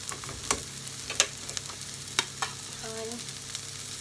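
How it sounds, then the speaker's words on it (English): Garlic, salt and thyme fry in oil with slightly browned onions, a soft steady sizzle broken by occasional sharp clicks and taps of stirring, close and quiet with no voices. "I'm going to add the garlic and the salt and the thyme"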